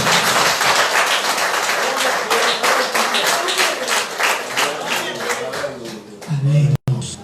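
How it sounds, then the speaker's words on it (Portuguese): A church congregation bursts into sustained applause during a worship service, many hands clapping loudly and steadily before it fades toward the end. "Vamos aplaudir o Senhor."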